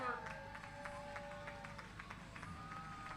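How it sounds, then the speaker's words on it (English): Scattered clapping from spectators at a Lake Winnebago 4th of July water ski show, faint and distant beneath an ongoing tonal drone, with a few separate claps standing out. "Big round of applause."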